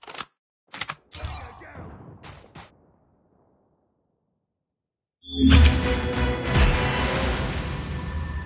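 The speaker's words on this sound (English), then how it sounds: "Changing mag." In Call of Duty Mobile, a gun magazine is swapped with several sharp mechanical clicks and clacks at the start. After a short silence, loud gunfire and action noise follow.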